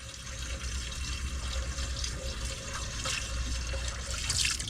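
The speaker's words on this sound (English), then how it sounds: "Look at that tall pour." Liquid poured from a height in a steady stream for several seconds, a continuous splashing wash with small drips, close by and with no talking.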